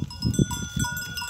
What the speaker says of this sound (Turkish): Şöyle koyunlarınızı da çekeyim.